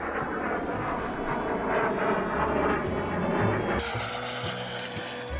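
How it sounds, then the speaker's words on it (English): Airplane flying overhead outdoors during a fall beehive inspection, a steady broad engine roar that holds across the whole stretch without talk. "Stupid airplanes."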